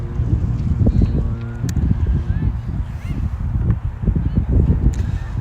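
Steady wind roars and buffets the microphone across an outdoor sports field, a loud continuous rumble with a voice talking underneath.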